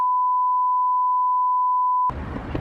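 A steady electronic alert tone from a phone, carrying a text message warning about a massive approaching storm, holds for about two seconds before cutting off into background room noise.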